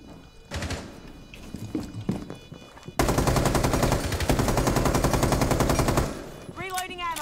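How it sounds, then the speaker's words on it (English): A fast, steady stream of rapid-fire gunshots from Rainbow Six Siege fills about three seconds, loud and continuous, after scattered quieter game noises and talk. "she's still shooting at me"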